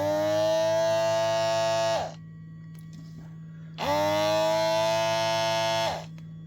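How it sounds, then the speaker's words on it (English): The motor of a Vanpopubs automatic digital 8-inch suction cup pump whirs in two close, even bursts of about two seconds each, with a quiet gap between them and a faint hum underneath. "when it starts to drop too low, it'll just constantly pump itself back up"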